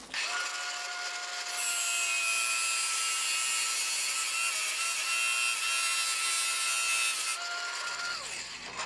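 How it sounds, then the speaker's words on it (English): A length of metal continuous hinge being cut with an angle grinder in a woodworking shop, a loud, steady, high-pitched whine and grinding screech that holds for several seconds before spinning down at the end, with no talk. "I then cut a length of continuous hinge with my angle grinder."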